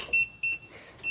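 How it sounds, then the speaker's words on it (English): A Xiaomi Electric Scooter 6 Lite lock alarm gives sharp, high-pitched electronic beeps in three quick repeating bursts, loud and close with no talking. "Now it is locked. The alarm will sound, but doesn't matter."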